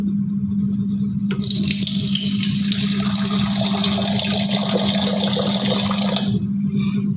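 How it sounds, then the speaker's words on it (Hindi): Water pours steadily into a clean container for several seconds, a loud continuous splashing gush that starts abruptly and stops just before the end, with a low hum underneath. "ये है बिल्कुल क्लीन कंटेनर, ठीक है। इसमें हम पानी ऐड करेंगे।"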